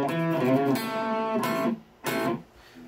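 Electric guitar playing the intro riff, a phrase of sustained, ringing notes followed by two short accented chords, played alone.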